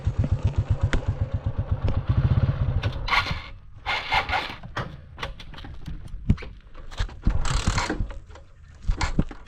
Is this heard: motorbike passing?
yes